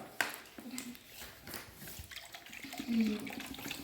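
Water being poured into a one-litre measuring container, a faint, steady splashing trickle heard close by under soft voices.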